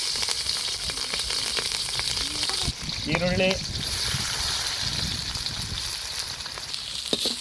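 Mustard seeds and green chillies frying in hot oil in a pan give off a loud, continuous sizzle with crackling pops, while a person talks over it.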